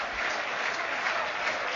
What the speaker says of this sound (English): 20 goals for the season, gets a standing ovation